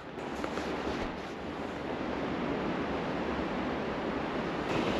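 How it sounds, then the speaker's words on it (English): Fast, rough water of the Niagara River surging during a storm, a dense continuous roar that stays loud and steady with a slight rise near the end, with no one talking. "a very, very violent and angry Niagara River is flowing really fast right now down towards Niagara Falls"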